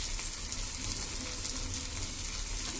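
Potato and tomato curry fries in a pan with a steady, close sizzling hiss that sounds almost like running water, continuous and even throughout, with no talking.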